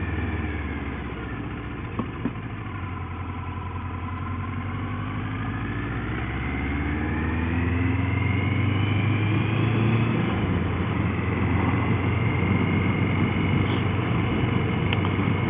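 A motorcycle engine runs steadily for the whole stretch, a continuous droning rumble with rising and falling pitch as it revs and cruises.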